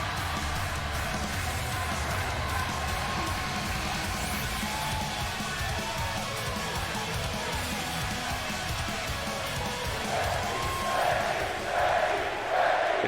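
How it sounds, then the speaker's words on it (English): A wrestling arena crowd in the video game WWE 2K20 cheers and chants throughout a women's match, a dense, loud, continuous roar that swells toward the end. "Crowd on Becky's side."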